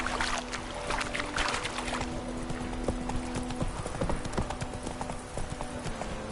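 Horse hooves clip-clop steadily at a gallop in The Witcher 3, a rhythmic, fairly close beat running throughout with faint game ambience and no talk.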